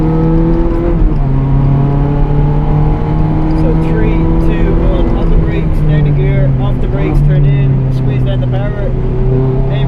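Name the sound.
car accelerating at full power on race track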